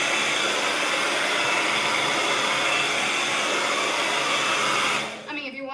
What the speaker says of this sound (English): And I like to take like a blow dryer.